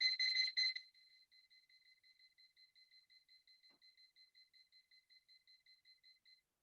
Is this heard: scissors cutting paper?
no